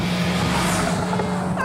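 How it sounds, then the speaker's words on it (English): A Noble M12 GTO with a twin-turbo 3-litre engine drives past, its steady engine drone holding loud and even with a brief tire squeal near the end. "This is the Noble M12 GTO, the new one, with the twin-turbo 3-litre engine."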